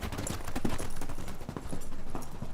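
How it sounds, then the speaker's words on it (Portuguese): Rapid, dense hoofbeats of a horse galloping off, a sound effect in a Portuguese audiobook drama, loud and continuous with a clattering, driving rhythm. "monta um cavalo e sai em disparada."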